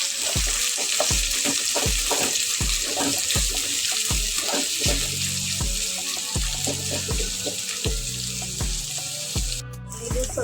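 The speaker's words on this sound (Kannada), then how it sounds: "ಇದು ಬ್ರೌನ್ ಕಲರಲ್ಲಿ ಫ್ರೈ ಆಗಬೇಕು" Onions frying to brown for chicken curry crackle and sizzle steadily up close, with repeated rhythmic scraping strokes of a spoon against the pan and a brief clatter near the end, with no talking.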